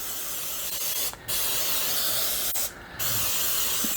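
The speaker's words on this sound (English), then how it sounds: "I'm gonna spray it really well." Two short hissing bursts of aerosol cooking spray into a loaf pan, each under a second, separated by a pause, over a steady background hiss.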